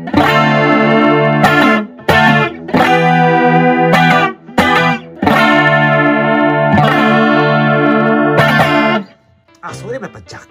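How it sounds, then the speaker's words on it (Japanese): Electric guitar through a Roland JC-40 amplifier's stereo chorus, playing loud, shimmering chords in several bursts separated by brief pauses, with a softer tail at the end. "続きまして JC40 の今度はコーラス聞いていただきましょう"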